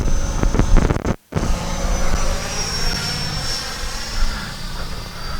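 An FMS Rafale 64mm EDF radio-controlled jet whines steadily and loudly through the air right after a hand launch, its high-pitched ducted-fan tone holding nearly constant with one brief dropout early on.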